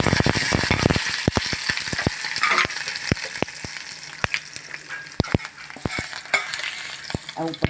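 Green chili and curry leaves sizzle in hot oil as a tempering for homemade khandvi, a steady hiss broken by frequent sharp clinks and taps of a spoon stirring in the pan.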